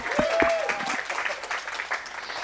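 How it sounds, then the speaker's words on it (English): Audience applause after an improv comedy event announcement, a steady patter of clapping with a brief tonal whistle near the start, fairly distant and moderate in level. "Round of applause for Boomerang."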